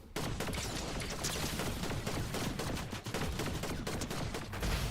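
Rapid automatic gunfire from the video game Fortnite, including an assault rifle, fires in dense continuous bursts, loud and close throughout, with no talking.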